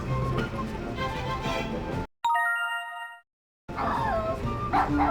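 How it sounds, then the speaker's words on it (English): A Dalmatian puppy barks and yips close and loud amid a busy cartoon soundtrack, with a short chiming tone between bursts. "When Oddball popped her head up and barked"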